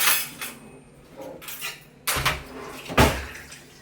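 A pot of water set down on a stove for making chowmein, with a few metallic clanks and knocks of cookware, the loudest near the end, with no talking.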